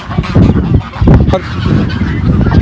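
Ducks on a farm quacking loudly and close, several harsh honking calls in quick, uneven bursts over about two and a half seconds, with no talk.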